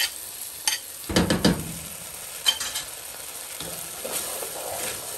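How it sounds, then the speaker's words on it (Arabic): Onion, butter and a homemade cream sauce stirred together in a pan, giving a few scraping swishes and soft sizzling in short bursts, with a steady background hiss throughout. "هسه بديت اخلط البصل والزبد والصلصه مالتي اللي سويتها هي مالت الكريمه"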